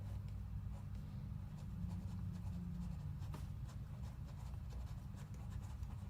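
A marker scratches and squeaks faintly across a surface while drawing a geometry diagram, soft rubbing strokes over a low steady background hum.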